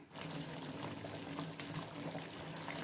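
Vinegar pours in a steady, even stream into a pot of cooking amra pickle, a continuous soft liquid rush heard close and quiet with no voices.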